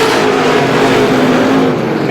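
Stock car engines roar loud and close as rookie stock cars race on a speedway oval late in a feature, a steady droning rev under a commentator's voice.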